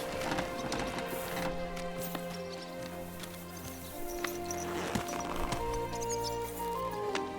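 A horse in Kingdom Come: Deliverance II makes soft clip-clopping hoof steps and faint snorting or whinny sounds amid game ambience, with no talk over it.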